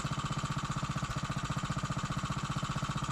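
A Briggs & Stratton engine on a Mega Moto minibike idles steadily up close, a loud, even chugging pulse with a slightly rough, knocking edge running throughout.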